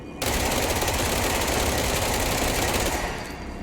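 Rapid automatic gunfire from a new weapon in the video game Control, a loud, steady stream of shots that starts abruptly and runs continuously for about three seconds before tapering off.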